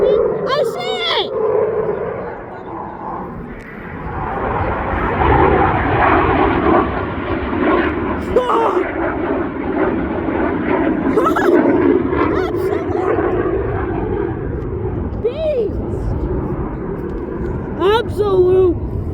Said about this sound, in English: Dude, that afterburner, absolute beast.